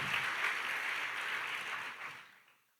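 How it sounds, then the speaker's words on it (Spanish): Congregation clapping at a Spanish-language church service, a dense, steady patter of many hands that thins and fades out over the last second. "Dale un buen aplauso al Señor."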